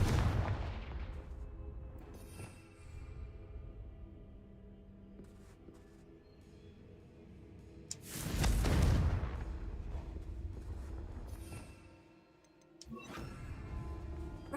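Fire spells from Hogwarts Legacy, a magic blasting spell, go off as booming explosions, one big blast near the middle and another toward the end, with rumbling game ambience between them.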